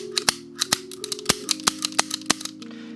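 A Hi Capa airsoft pistol being function-tested after its mag catch is fitted, giving a quick run of sharp, loud metallic clicks and snaps close up as the slide and trigger cycle repeatedly.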